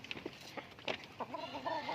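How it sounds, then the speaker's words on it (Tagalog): Native chickens cluck in short, quick bursts close by in a pen, a few soft clucks building into a rising, drawn-out call. "ito naman yung aking mga native na manok"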